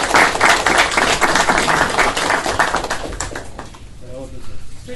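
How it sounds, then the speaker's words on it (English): Audience applause at a regular commissioners meeting, a few seconds of dense clapping from a room of people that thins out and fades toward the end, with a voice starting up as it dies away. "Let's give Stacy a round of applause"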